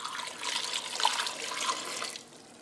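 Water pours steadily into an Instant Pot holding potatoes for mashing, a close, rushing stream lasting about two seconds before it stops.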